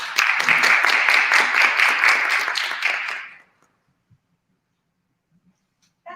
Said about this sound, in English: please first help me welcome our panelists with a round of applause.